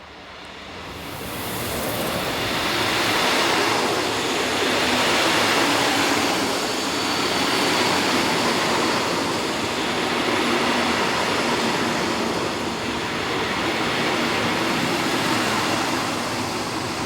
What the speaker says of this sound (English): Number 223054 returns north with a train from Chemnitz.